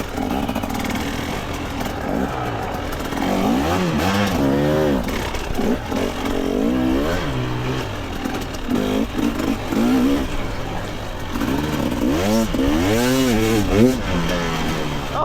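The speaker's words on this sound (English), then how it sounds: "More bikes." Several dirt bikes ride a single-track trail in Nova Scotia, engines revving and rising in pitch as they pass close and loud, with a rider talking over the noise.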